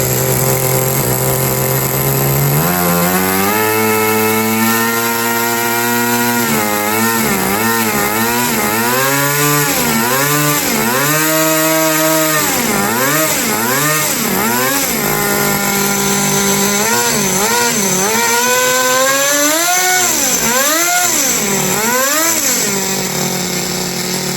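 A 30-year-old HPI RS4 nitro RC car engine buzzes loudly and close, revving up and down in repeated rising and falling whines before settling toward a high idle.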